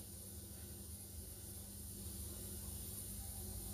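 Marinated fish pieces frying in hot oil, a steady, continuous faint hiss and sizzle without pauses.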